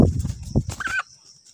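A domestic house chicken near a wild chicken trap gives a short burst of close, loud clucking and ends on a brief rising squawk, followed by near silence.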